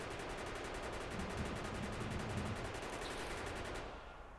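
Rapid automatic gunfire in Factorio shooting bugs, a dense continuous rattle of rapid-fire shots holding steady for several seconds before cutting off, loud and close with no talk.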